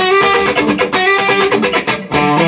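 Distorted electric guitar plays the middle eight of a song, a loud run of slid and repeated single notes with percussive attacks, steady and close with no voices.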